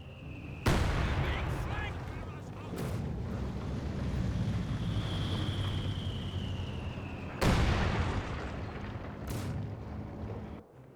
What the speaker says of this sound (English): 150mm mortar does get a good strike there onto the MG42.